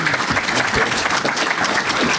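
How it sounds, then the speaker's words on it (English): A conference audience gives a steady round of applause between panels at a geospatial event, many hands clapping in a dense, continuous patter, fairly loud and without speech. "let's give them a round of applause"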